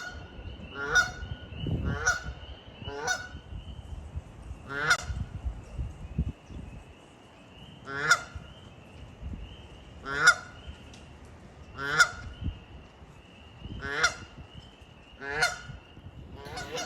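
A goose near a river at sunset in early spring honks repeatedly, about ten loud, nasal calls at irregular intervals of one to two seconds, close by, over a low rustling background.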